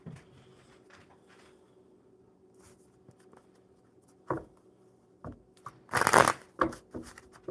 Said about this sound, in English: I have to shuffle.